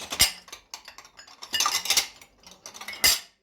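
Dishes and cutlery clatter and clink as items are shuffled and pushed together, in several quick bursts close by.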